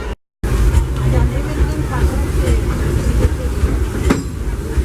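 A Disneyland Railroad train pulled by steam locomotive Ernest S. Marsh No. 4 rolls steadily along its rails with a loud, continuous rumble and rhythmic clatter, with a crowd murmuring over it.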